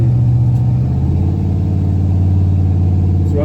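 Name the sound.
car engine running while driving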